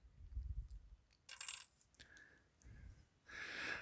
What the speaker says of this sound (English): I'm going to pick up this coin from El Salvador from 1992